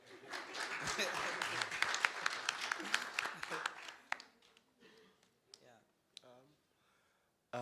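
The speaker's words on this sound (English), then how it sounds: "A round of applause." Applause at a student datathon presentation, a thick patter of many hands at moderate distance that fades after about four seconds into a few scattered claps and clicks, with voices talking over it.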